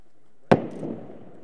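One sudden sharp blast of explosives on river ice cracks out, then fades into a short rumbling decay; nothing else is heard.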